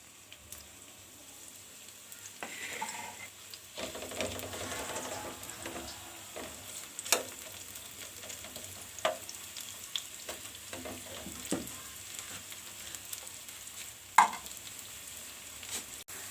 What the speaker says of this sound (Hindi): घी गरम हो गया। अब इसमें जी डालते हैं प्याज।